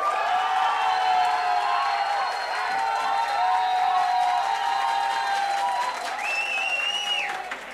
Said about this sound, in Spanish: Fuertes los aplausos para Joche